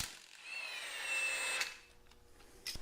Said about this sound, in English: This is a good job for the impact wrench.